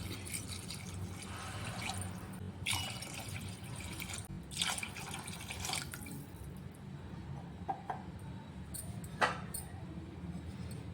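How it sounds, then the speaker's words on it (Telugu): Water is poured into a pot of rice with vegetables during cooking, heard as soft trickling and splashing with a few brief drips against a steady low background, fairly quiet and without talk. "నాలుగు గ్లాసులు వాటర్ పోస్తున్నాను"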